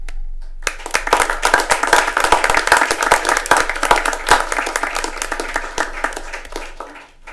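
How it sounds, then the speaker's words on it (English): City council meeting audience applauding after a resolution is adopted, a modest room of people clapping with distinct individual claps audible, starting abruptly and fading out toward the end. "Do you please stand now, Catherine Rumpf, and accept our applause?"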